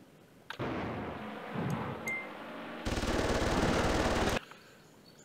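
Sustained machine-gun bursts from a unit in the war strategy game Command Ops 2, set at Joe's Bridge, firing in two long rapid streams separated by a brief lull, loud and close with no talking.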